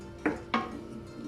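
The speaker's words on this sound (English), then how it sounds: "So I'm just going to keep stir frying this until" Onions are stir-fried in a pan for chicken fried rice. A utensil strikes the pan with two short, close clanks over a low, steady background.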